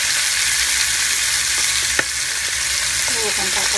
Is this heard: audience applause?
no